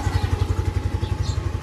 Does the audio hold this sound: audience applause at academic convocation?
no